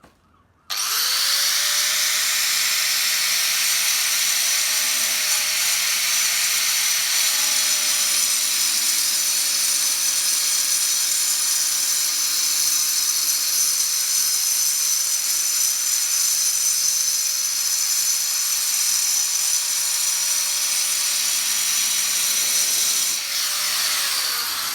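A small 4.5 inch angle grinder cuts into a concrete paving block, a steady loud high-pitched whine that holds for over twenty seconds before stopping abruptly.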